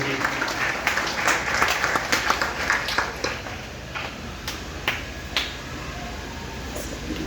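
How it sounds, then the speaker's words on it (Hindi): A church congregation on Easter Sunday night claps in thanks. Sharp, scattered claps are strongest at first, then grow sparser and quieter into separate hand slaps against a faint room background. "हम लोग जोरदार ताली बजाकर उनके लिए हम धन्यवाद देंगे"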